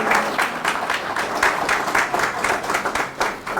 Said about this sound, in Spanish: Fuerte el aplauso para nuestro quinto ponente